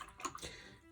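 A paintbrush swished and rinsed in a pot of clean water during watercolour painting, a brief, faint splash and slosh lasting under a second.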